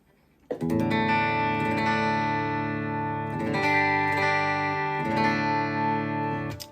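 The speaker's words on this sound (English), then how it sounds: "we're on the blue algorithm, which is the spring reverb" Guitar chords ring out loud and sustained, each strum splashing into a bright, boingy spring reverb from a Jet Pedals Revelation pedal that lingers between changes.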